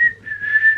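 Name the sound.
person whistling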